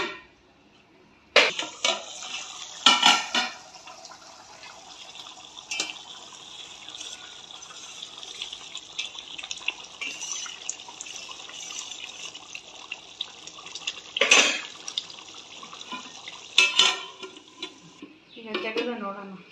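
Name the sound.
fish sambar masala boiling in a pot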